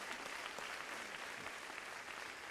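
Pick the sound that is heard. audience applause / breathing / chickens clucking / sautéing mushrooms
audience applause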